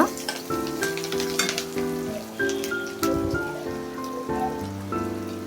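Seven green chillies and two medium onions sizzle steadily in a frying pan, a continuous crackling fry running throughout with tuneful background music layered over it.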